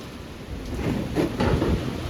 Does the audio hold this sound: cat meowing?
no